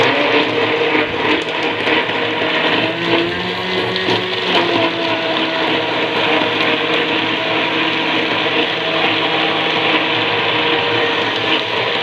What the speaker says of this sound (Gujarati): અને આને થોડી વધારે વાર બ્લેન્ડ કરશો તો એની અંદર રેસા કે એવું પણ બિલકુલ નહીં રહે